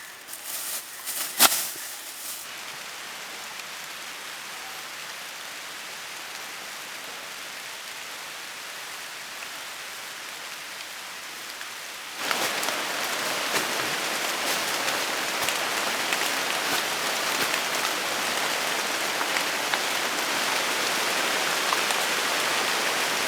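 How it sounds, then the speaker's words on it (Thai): Steady hiss of rain falling on surfaces during a hike up Khao Nom Nang, Saraburi, Thailand, growing noticeably heavier about halfway through, with a sharp knock near the start. "ฝนตก"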